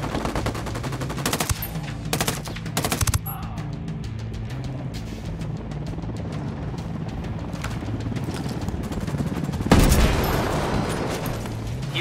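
Loud bursts of automatic rifle fire and single shots crackle through a Ghost Recon Wildlands firefight, with rapid clusters early on, a steady rumbling engine beneath, and a heavy boom near the end.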